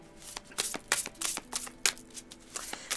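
Tarot cards being shuffled for a reading, a run of crisp riffling bursts and soft flicks repeating at an uneven rhythm, close and clear with no talk.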